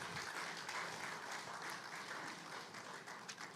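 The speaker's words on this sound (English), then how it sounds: "Can we give a round of applause?" An audience at an SME business conference applauds in a continuous, fairly faint wash of clapping heard from a distance, steady throughout without clear individual claps.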